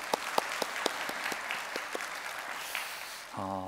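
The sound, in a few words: church congregation applauding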